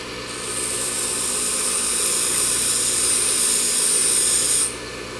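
A lathe tool bit is held against a bench grinder, giving a loud, sustained high-pitched grinding whine over the motor's hum that holds steady for several seconds and then stops abruptly, with no voices.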